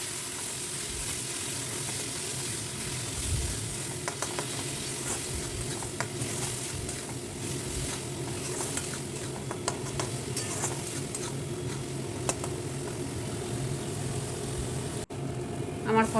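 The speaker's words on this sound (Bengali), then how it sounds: "দিয়ে এটাকে ভালো করে কষিয়ে নিব" Ground spice paste sizzles steadily in hot mustard oil while a spoon scrapes and stirs it through the pan, a continuous close frying hiss with scattered clinks, for a Bengali bhetki fish muitha curry.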